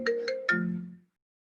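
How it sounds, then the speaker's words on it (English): A phone ringtone from an incoming call sounds close by as three quick melodic tones that fade out after about a second, followed by silence. "that was a phone call"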